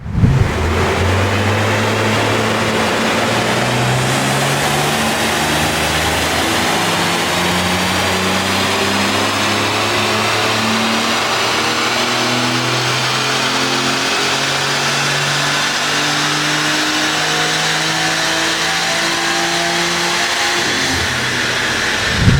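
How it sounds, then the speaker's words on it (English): A BMW M3 G80 with new intakes on a dyno revs hard in one long, loud pull, its engine note climbing steadily for about twenty seconds before cutting off abruptly. "Run it back on the dyno now in the same day, same environment, same humidity"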